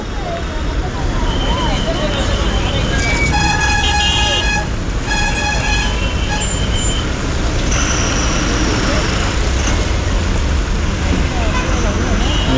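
Stalled traffic on the Mumbai-Goa highway with vehicles queued bumper to bumper gives a loud, constant roadway roar, with a cluster of car horn toots early on and people talking nearby.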